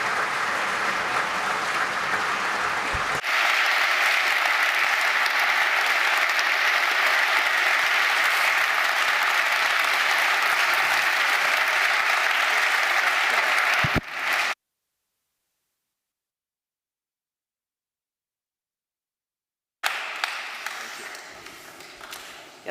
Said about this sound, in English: I think that merits a very big applause